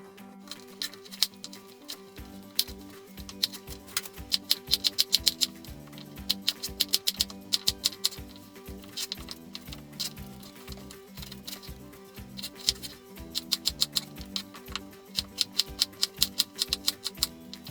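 A knife cutting pitta bread into sticks on a board, a quick run of light, close, rhythmic taps and ticks with no talking.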